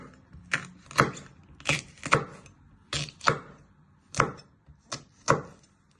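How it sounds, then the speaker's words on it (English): A knife finely chops chili on a cutting board in about a dozen sharp, uneven knocks, close and clear with short pauses between strokes. "Keep it all together and chop it into little pieces."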